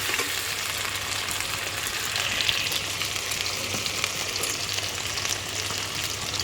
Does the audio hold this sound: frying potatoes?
yes